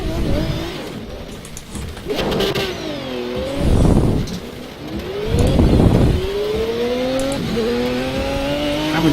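Car engine in a racing game revving hard through repeated wheelspin, loud surging whines rising and falling several times with tyre squeal, close and continuous.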